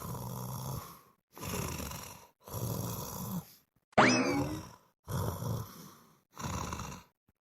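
A sleeping person snores in a home setting, six heavy, drawn-out snores with short silent gaps between them, close and fairly loud.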